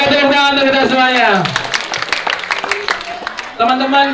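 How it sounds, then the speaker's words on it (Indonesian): A group in a public-speaking practice session starts clapping partway through, and the burst of scattered claps runs for a couple of seconds between loud spoken phrases from a host. "Oke, tepuk tangan untuk kita semuanya."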